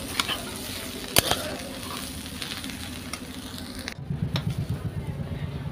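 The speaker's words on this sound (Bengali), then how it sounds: "লবণ স্বাদ মতো, কাঁচা লঙ্কা, নাড়াচাড়া করে নিলাম।" Greens with salt, turmeric and green chili are stirred as they fry in a pan. Scraping strokes run over a continuous sizzle, and the frying grows louder and more rhythmic toward the end.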